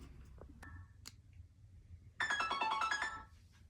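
A phone timer alarm sounds after five minutes, a sudden loud burst of bright trilling, ringing tones that runs for over a second. A few faint clicks and taps come before it.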